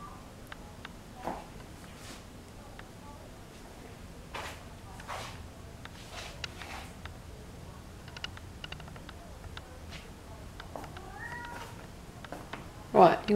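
A cat meows a few times, quiet and close, in a calm indoor room. Soft handling noises surround the meows, and a person speaks gently.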